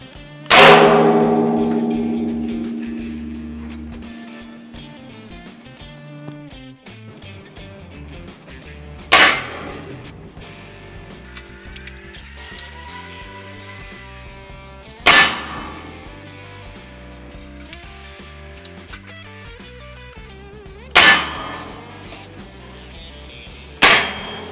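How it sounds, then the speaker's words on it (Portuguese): A Hatsan Striker AR GR 5.5mm air rifle fires four sharp, loud shots several seconds apart, each ending in a brief metallic clang. A long ringing decay follows the opening sound. "Agora vamos fazer uma demonstração de disparo dessa carabina aqui para vocês."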